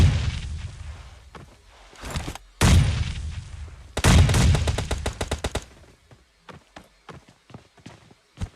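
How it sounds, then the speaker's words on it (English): Video game gunfight with loud close bursts of automatic gunfire, sharp rapid volleys, and a string of quick single shots fading toward the end, with no talk over it. "They've heard of this gunfight and they want some more of it"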